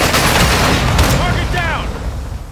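A grenade explosion and a burst of gunfire in a video-game firefight hit as a loud blast of booming shots, and a brief voice call sounds over the din before it fades.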